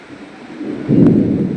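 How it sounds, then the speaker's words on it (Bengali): Heavy rain on a monsoon day comes down outdoors as a rushing wash that swells suddenly partway through, close and loud with a rumbling low end. "এই দেখুন বৃষ্টি পড়ছে।"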